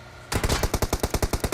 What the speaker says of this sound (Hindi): हाँ मैं गोलियां चलाता हूँ और दोनों बंदे एक ही बार में ठिल जाते हैं।